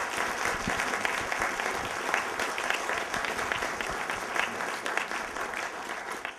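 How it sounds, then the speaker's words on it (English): Steady, dense applause from a large conference audience in New York, a continuous wash of many hands clapping that fills the whole stretch at an even level with no voices on top. "So let's have a big round of applause"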